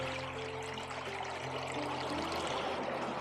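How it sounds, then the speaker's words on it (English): Water from Carbon Run creek in the Shamokin Creek watershed pouring into a sample container, a soft continuous splashing trickle close by, with a faint hum in the background and no talk. "We're just going to take a sample of the water here."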